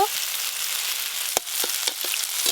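Greens sizzle steadily as mustard oil and poppy seeds fry in a cleared space in the pan, a continuous close hiss with a few sharp crackles and scrape-like pops through the middle and end, no voices.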